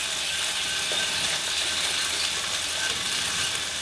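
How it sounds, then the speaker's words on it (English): Butter being whisked into a beurre blanc-style reduction sauce, a continuous dense scraping and rattling whir of the whisk, steady and close throughout. "and we just whisk that in."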